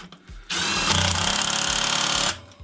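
A power wrench set to low power tightens a rear brake caliper mounting nut, a steady whirring buzz of about two seconds, close and loud, with brief quiet before and after.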